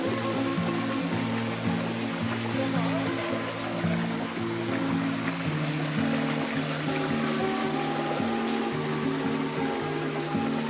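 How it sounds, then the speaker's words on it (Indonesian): Continuous rushing water from a small mountain waterfall on Gunung Berantai, Indonesia, a steady close splashing flow with a low, even roar throughout. "Ada air terjun mini."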